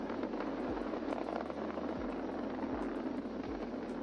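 SpaceX Falcon 9 rocket engines roaring through ascent past Mach 1, a steady, loud broadband rumble heard from a distance with a low droning undertone, no voices.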